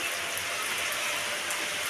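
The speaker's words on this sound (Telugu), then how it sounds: "చూడండి వర్షం ఎంత పెద్ద వర్షం వస్తుందో అదిగోండి పెద్ద వర్షం" Dense, steady hiss of heavy rain pouring down, with scattered sharper drops pattering on a surface nearby.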